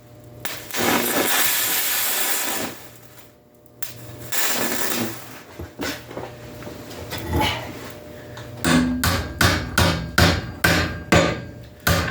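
A hammer strikes rebar heated with carbon arc electrodes to bend it, first after a long hissing roar of the heat, then a rapid series of loud, close metallic blows near the end.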